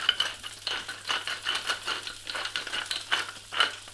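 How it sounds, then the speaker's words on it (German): Onions and garlic sweating in a pan while rabbit legs are prepared, a soft steady sizzle with repeated light stirring and faint clinks of a utensil against the pan, quiet and close, no voices. "Dann schwitze ich meine Zwiebeln und den Knoblauch noch kurz an."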